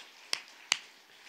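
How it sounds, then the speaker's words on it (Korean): Two sharp claps a fraction of a second apart in a church service, from a Sunday worship congregation at a Korean church, crisp and fairly close with quiet room tone between them. "믿는 사람만 박수로 영광"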